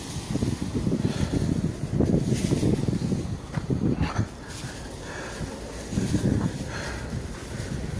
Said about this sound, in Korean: 바람 부는 거 들리시죠? 바람 부는 소리.